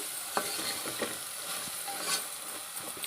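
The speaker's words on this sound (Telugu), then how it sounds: "పచ్చి వాసన పోయేదాకా వేపుకోవాలండి అడుగు అంటకుండా చూసుకొని" Masala for goat tripe curry fries in oil while a spoon stirs and scrapes the pan, a soft continuous sizzle broken by several distinct clinks and scrapes.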